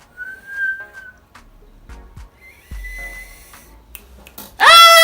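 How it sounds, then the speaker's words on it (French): Whistling made by drawing air inward through the lips: a thin steady tone for about a second, a second wavering tone midway, then a loud burst with sharp rising squeaks at the end, separated by soft breathy noises. "Ça sifflait."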